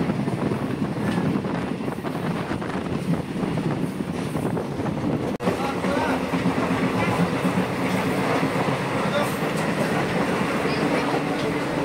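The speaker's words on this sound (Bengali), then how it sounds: "ট্রেন শান্তির বাজার রেলওয়ে স্টেশন ছেড়ে পরবর্তী গন্তব্য বিলোনিয়ার উদ্দেশ্যে রওনা হলো" A nine-coach passenger train leaves Santir Bazar station in Tripura bound for Belonia, its steady rolling rumble and rhythmic wheel clatter loud and continuous, with one brief dip midway.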